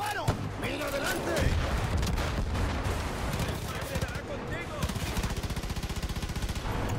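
Automatic weapons fire in a Far Cry 5 firefight: dense, rapid bursts and heavy booms rattle on continuously, with an excited voice talking over the shooting.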